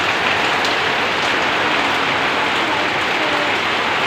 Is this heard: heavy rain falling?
yes